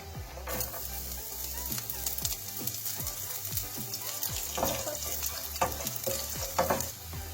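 Garlic and chilies fry in a pan for a chicken chukka, a steady close sizzle broken by repeated scraping stirs and clinks from start to finish, with no talk.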